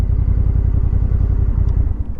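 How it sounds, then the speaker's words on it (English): A Honda NT1100 motorcycle engine idles in neutral with a steady, rhythmic low thrum. It is close and fairly loud throughout, with no talk. "Now the engine will run in neutral."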